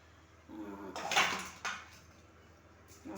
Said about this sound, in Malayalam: ഗ്യാസ് കത്തിച്ചു ചട്ടി അടുപ്പത്തേക്ക് വയ്ക്കണം